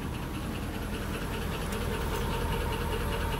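A car engine idling, a steady low rumble with a faint mechanical knock, continuous and fairly close throughout.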